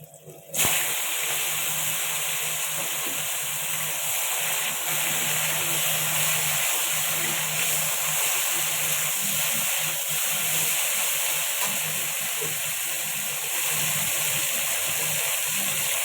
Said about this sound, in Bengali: সবজিটা আমি ধুয়ে রেখেছি, ঢেলে দেবো।